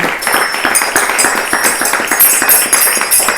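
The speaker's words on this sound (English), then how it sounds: "Let's give a big round of applause for Sagara" Applause and clapping from a crowd at a kirtan program of the Bhakti club in LA, dense and steady with close hand claps throughout, no talking.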